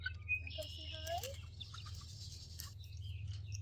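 Young backyard chickens, eight weeks old, cluck and chirp softly in short bursts close by, over a steady low hum.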